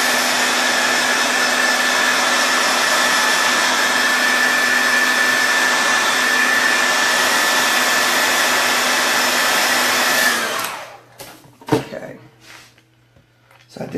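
A blow dryer roars steadily on a cool setting, drying chalk paste on a surface, a loud continuous whir that cuts off abruptly near the end, followed by a few clatters and near silence.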